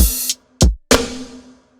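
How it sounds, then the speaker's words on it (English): Sampled hi-hats on a Maschine with choke enabled: an open hat is cut off abruptly by a closed hat, followed by another sharp hit and a decaying open hat, three crisp close hits in under two seconds. "You can hear how the open hat stops as soon as I touch the closed hat"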